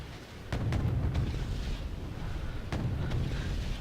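Tank cannons fire in Wargame: AirLand Battle as Chieftains and T-72s trade shots, giving several sharp booming blasts over a constant rumbling battle din.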